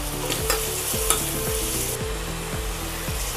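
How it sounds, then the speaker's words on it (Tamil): Roughly chopped onions sizzle in hot oil with spices for a Kadaknath chicken pepper gravy, with a steady frying hiss and regular scraping strokes of a spatula stirring the pan. No one speaks. "நம்ம ரஃபாக வெட்டி வச்ச வெங்காயத்தை போட்டுக்கலாம்"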